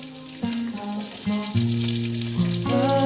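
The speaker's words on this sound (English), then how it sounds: "fry well till it comes brown" Chopped onions frying in oil with cinnamon, cardamom and cloves make a bright, continuous sizzle, close and loud. Sustained melodic tones play over it, and no one speaks.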